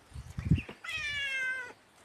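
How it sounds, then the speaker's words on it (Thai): A cat gives one drawn-out, clear meow outdoors in cold, windy, rainy weather, preceded by a few soft thumps and rustles. "แมวมันร้องเย็ก"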